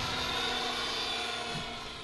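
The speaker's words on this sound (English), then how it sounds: "I was shocked at how fast this helicopter really is" An Align T-Rex 550E PRO DFC electric RC helicopter flies fast, giving a steady, dense high-pitched rotor whine and hum that holds without a break.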